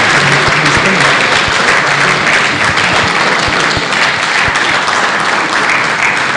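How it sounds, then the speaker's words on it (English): A large church crowd claps hard and continuously at a motivational gathering in Jos, a loud, dense wash of hand claps with some voices mixed in beneath. "Make the hand clap stronger, better, fantastic, massive, big."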